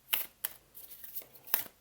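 Soft, close riffling of an Inner Temple Oracle card deck by Rebecca Campbell, heard as a few quick crisp bursts of cards flicking together with quiet gaps between them.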